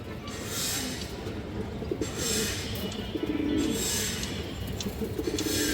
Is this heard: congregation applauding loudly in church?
no